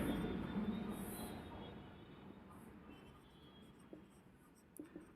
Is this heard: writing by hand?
yes